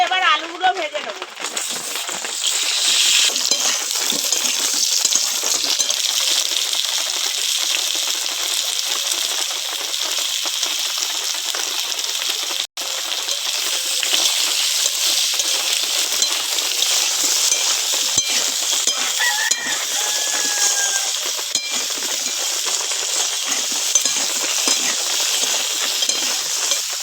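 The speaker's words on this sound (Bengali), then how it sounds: "এবার আলুগুলো ভেজে নেব।" Potatoes frying in oil for a Bengali fish-head and potato curry, a steady loud sizzle with stirring clatter throughout, briefly cut off midway.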